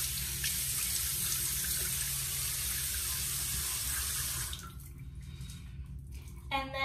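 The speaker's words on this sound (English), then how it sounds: "I'm gonna wet my face." Water running steadily from a bathroom tap as a face is wet, a continuous close hiss that drops lower and more broken partway through, with a brief splash or clatter at the end.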